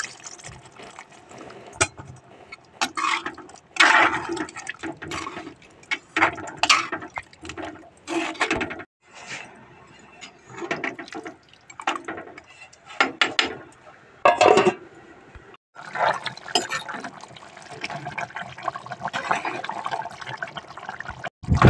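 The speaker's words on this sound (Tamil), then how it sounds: "கொஞ்சமாக லைட்டாக தண்ணி ஊற்றி விட்டுடலாம்." Water is poured into a pot of duck gravy, giving intermittent splashing and liquid pouring sounds in uneven bursts with short pauses, close and moderately loud, no talking.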